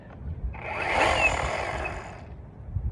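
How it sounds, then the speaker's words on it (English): Repaired chainsaw cutting into a piece of tree during a logging job, a single rising and falling surge of engine and cutting noise lasting about a second and a half, fairly faint and distant. "Got the chainsaw fixed, so let's see if I can cut a piece of tree while I'm here"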